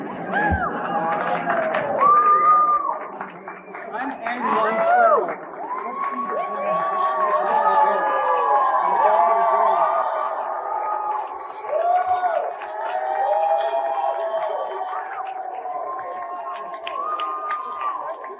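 A theater crowd at the Kennedy Center booing and cheering Donald Trump, a dense, loud, sustained mass of voices with overlapping shouts and whoops that rise and fall for about eighteen seconds.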